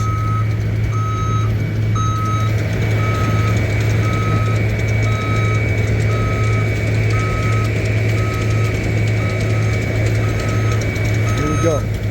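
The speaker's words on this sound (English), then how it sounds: "Again, there's a truck backing up." A truck backs up at a paving job site, its reversing alarm beeping steadily at an even pace over a continuous low engine rumble.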